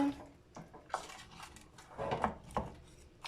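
Roast pork with shallots being stirred in an oven dish, quiet scattered scrapes and clinks of a utensil against the dish, close and irregular, with no talk.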